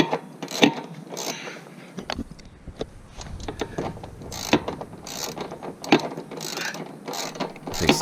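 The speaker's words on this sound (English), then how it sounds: "just going to do some final tightening" A ratchet tightening bolts on the front rack of a newly assembled ATV, with quick bursts of rapid clicking that come in several separate runs, close and crisp against a quiet background, with no talk.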